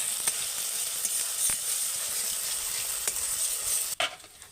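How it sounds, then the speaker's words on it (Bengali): Spice paste of cumin and ginger fries steadily in a pan with a continuous high hiss, punctuated by several sharp scraping strokes of a spoon and a louder clatter near the end. "মশলাটা আমি যতক্ষণ না জিরে আদার গন্ধটা যাচ্ছে ততক্ষণ আমাকে ভাজতে হবে"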